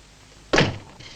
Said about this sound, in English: Shut the door, Luigi.